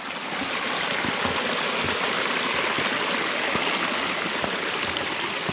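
Mountain stream water flows beside a hiking trail, a constant close rushing and gurgling wash that fills the whole stretch without any voices.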